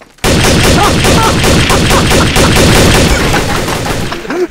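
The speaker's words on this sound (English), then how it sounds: "I just shot a detective and almost killed another one." Rapid gunfire from a video game as a detective is shot, a dense, loud, sustained burst of repeated shots lasting several seconds with no talk over it.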